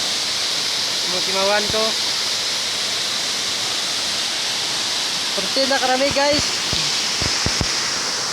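A stream flows with a steady, loud rushing wash of water throughout, while someone talks over it at times.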